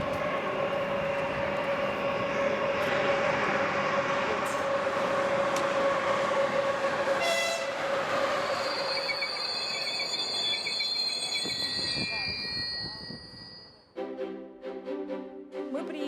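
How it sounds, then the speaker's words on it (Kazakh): The Tulpar-Talgo express passenger train pulls into a station and comes to a stop on the second track, with a long steady rumble and squeal that fades before a sudden shift near the end. "тұлпар-тальгі жүдек пойызы екінші жолға келіп тоқтайды"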